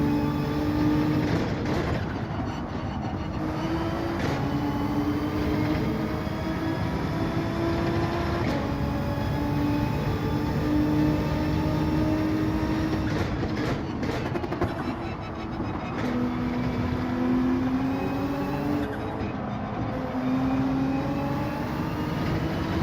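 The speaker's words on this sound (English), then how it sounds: "car sounds are quite good." Race car engines in Gran Turismo 7 during a daily online race at Spa-Francorchamps, a steady loud drone with a rising and falling engine pitch as cars shift and accelerate, continuous throughout without talk.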